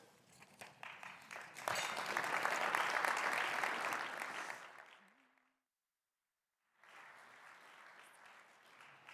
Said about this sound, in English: how about another round of applause for Michelle Becker